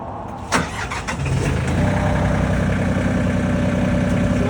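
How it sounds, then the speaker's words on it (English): A MT226HE compact tractor fitted with a backhoe cranks over with a short burst, then the engine catches and settles into a loud, steady idle that carries on without talk. "I'll start it up and operate the backhoe."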